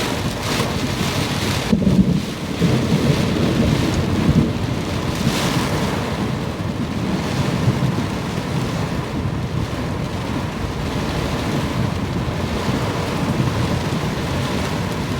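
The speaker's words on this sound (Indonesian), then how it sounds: "Hujannya gede semua." Heavy rain pours down in a constant, dense roar that stays loud and even throughout, with no voices.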